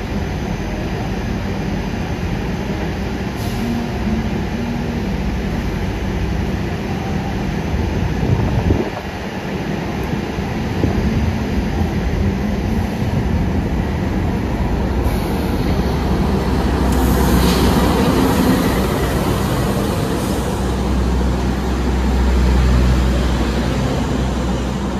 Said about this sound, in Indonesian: Kita bersilang dengan kereta api Argo Wilis di stasiun Kroya.